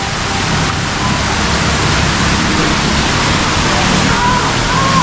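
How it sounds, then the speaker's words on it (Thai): Steady rushing water pours continuously from an artificial waterfall at a family restaurant in Pattaya, a broad even hiss with no breaks. "มันก็จะมีแบบเป็นน้ำตกนะน้ำตกเทียม"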